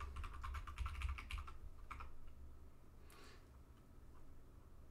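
Quick bursts of key clicks from a computer keyboard as a password is typed for a Fedora Linux system upgrade, a rapid run of close taps for about two seconds, then a low steady hum with a brief soft swish and no talking.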